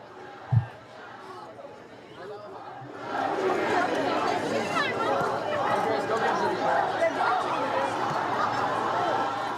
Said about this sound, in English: You hear the crowd down there, one of the student sections, with that I Believe chant